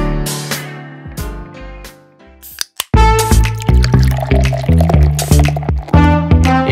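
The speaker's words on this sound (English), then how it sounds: "Lastly, I'm gonna submerge all this in some vodka." Vodka poured over steeped ingredients in a container to submerge them, a close, loud gurgling pour with bubbling splashes and drips, brief pause, then steady glugging fill.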